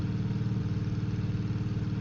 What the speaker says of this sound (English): Don't mind the noise from my giant engines.